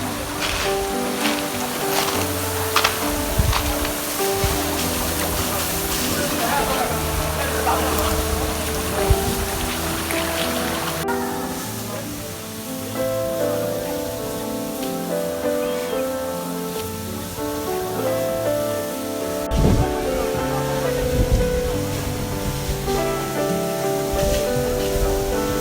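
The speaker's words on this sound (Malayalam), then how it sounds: "നമ്മുടെ വെള്ളച്ചാട്ടം." Loud, steady rushing roar of a waterfall reached through a cave-like passage, continuous for the whole stretch, with sustained tonal layers running over the water noise.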